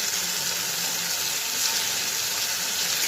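Tomato and ginger paste fries in a pan, making a loud, constant hiss and sizzle close up that holds steady throughout with no talking.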